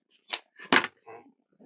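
Scissors snipping through snowglobe wreath kit material, a few short, crisp cuts in quick succession, close and fairly quiet, with no talking.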